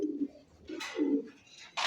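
Bokhara pigeons cooing in a cage, close by: a few low, throaty coos in short phrases with brief pauses, and a scratchy rustle of movement between them, no voices.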